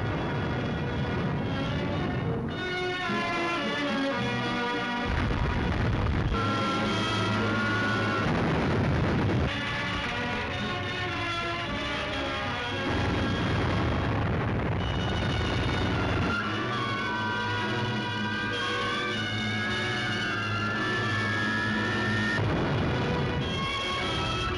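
Anti-aircraft gun batteries fire in a wartime newsreel about fighting in Russia, a loud, steady barrage of booming shots that runs under a continuous musical score for the whole stretch.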